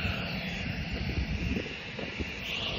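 An airplane at the airport before boarding gives a steady, unbroken engine drone that holds at an even level throughout, with no voices.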